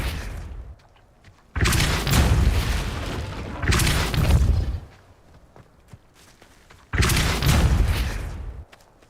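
Three forceful spell blasts of Depulso in Hogwarts Legacy, each a loud whooshing boom lasting a second or two, separated by quieter ambient gaps, with no talking.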